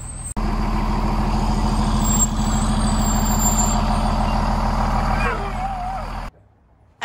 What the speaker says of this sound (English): So Joe's going to pull the motorhome forward one last time.